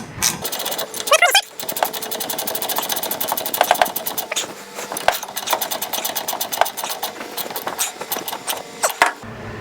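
A ratchet clicks rapidly and steadily while the top bolt of a rear shock is tightened on a 2007-13 Toyota Tundra, a close dense run of sharp ticks with brief pauses and some voice underneath.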